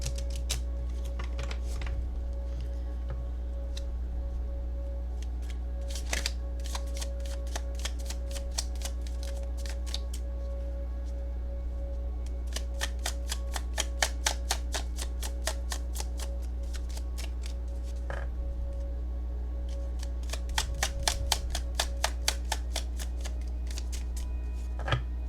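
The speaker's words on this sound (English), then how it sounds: "I want to go ahead and shuffle this one more time." Tarot cards are shuffled by hand in quiet bursts of rapid crisp riffling and flicking, with pauses between rounds over a faint steady hum.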